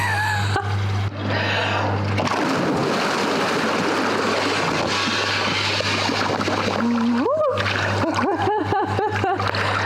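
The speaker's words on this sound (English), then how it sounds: "time to get wet and hold my breath" A person wearing a Spinlock Deckvest lifejacket plunges into the water, a loud close splash and churning turbulence followed by bubbling and muffled watery noise, with a steady engine-like hum beneath.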